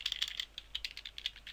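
Code is typed on a computer keyboard for a Visual Studio C# tutorial: a brief burst of quick, close, fairly quiet keystrokes in an uneven rhythm.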